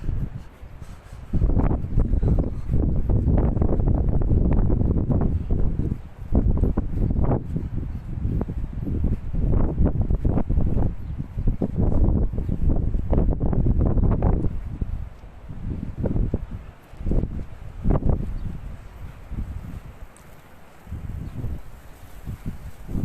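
Strong gusty wind buffets the microphone in low rumbling bursts on a sunny day at Osmancık Castle, loud and continuous with brief lulls, no one speaking.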